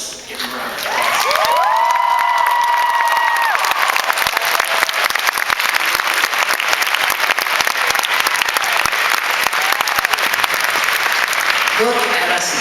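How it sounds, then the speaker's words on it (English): A graduation ceremony audience bursts into loud, sustained applause mixed with cheering that fills the hall for about ten seconds, with a brief voice speaking before it starts and again as it fades. "let's just give them a round of applause."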